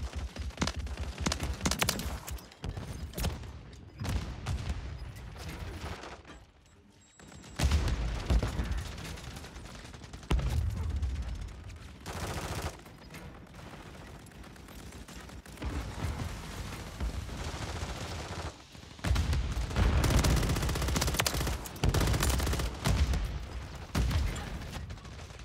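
Rapid gunfire fills a shooter video game, dense bursts of automatic fire and heavy impacts nearly continuous across the stretch, with one short lull before the shooting resumes loud and close.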